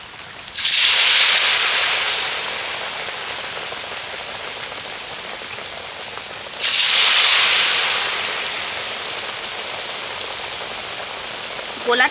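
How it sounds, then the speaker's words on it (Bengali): Raw potato and flour snack batter frying in hot oil, a loud hissing sizzle that bursts up as pieces drop in, fades slowly, then flares again with a second batch, with no talk over it. "বাকিগুলো আমি একই রকমভাবে ভেজে নেব"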